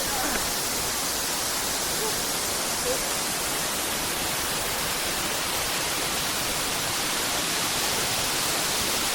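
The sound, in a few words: Balagbag waterfall, Real, Quezon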